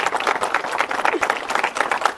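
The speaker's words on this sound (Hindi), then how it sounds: "ताली बजाओ मेरे लिए भी।" Audience applause at an Air Force premedical coaching camp, a dense, steady wash of many hands clapping that lasts the whole moment.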